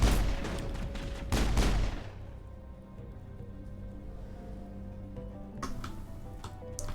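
Several loud gunshots fired at a sniper in the sci-fi game Mass Effect, in a dense burst during the first two seconds, then a quiet hum with faint ticking and a few distant shots.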